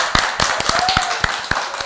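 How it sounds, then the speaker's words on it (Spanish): An audience at a communication and journalism lab event in Cusco, Peru claps for a political analyst, a sparse run of distinct hand claps under a faint murmur of voices. "unos aplausos, por favor."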